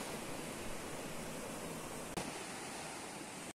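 A strong river current rushes among rocks beside a bamboo forest, a steady, full, close wash of water noise with a single faint knock partway through and no talking.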